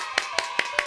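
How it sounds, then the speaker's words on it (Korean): Four sharp, evenly spaced hand claps, loud and close, spread across a second. A voice can be heard faintly underneath them. "짜자잔 박수"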